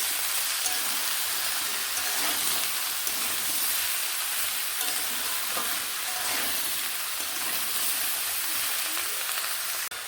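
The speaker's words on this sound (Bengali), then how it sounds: "সবজিগুলো এখানে এইভাবে ভালোভাবে ভেজে বা কষিয়ে নেব" Mixed vegetables with turmeric and salt frying in a pan, giving a steady, close, bright sizzle that runs the whole time with no talking.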